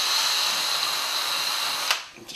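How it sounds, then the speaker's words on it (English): A power drill bores through a board with a steady, close, high whine that runs for about two seconds and then cuts off, leaving a brief tail of handling noise. "This, I just need to be able to drill through this."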